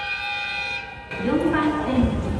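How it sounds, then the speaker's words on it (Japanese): A train pulls into a station platform in Hokkaido, a steady tonal hum giving way to a louder rumbling approach with a sliding horn-like tone, close and prominent. "さあ、列車がやってきました。"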